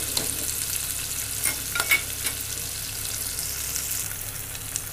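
Small shallots sauté in oil for a Tirunelveli-style sundavathal kuzhambu, giving a soft continuous sizzle broken by a few light scrapes and taps of a stirring spoon.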